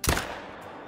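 Single rifle gunshot fired at a buck while hunting in Call of the Wild, a sharp close crack followed by a short fading echo, with no talking.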